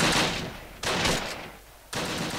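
Bursts of gunfire in the WWII tactical video game Close Combat: Wacht Am Rhein, loud and dense, arriving in three sharp volleys separated by brief quieter gaps.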